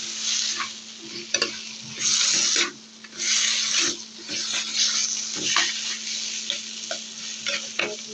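Boiled taro leaves are stirred into a hot frying pan, with repeated scraping strokes and sizzling that rise and fall in uneven bursts, close and fairly loud, with no talking.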